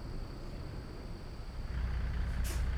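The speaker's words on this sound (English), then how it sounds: "Well, you hear that old Jake squealing." A truck's Jake brake in American Truck Simulator drones steadily with a thick low rumble that swells louder partway through, a faint high tone running on top and a brief hiss near the end.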